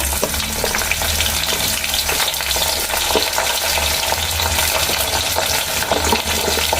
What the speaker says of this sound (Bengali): তাতে ছেড়ে দিচ্ছি সজনে ডাঁটা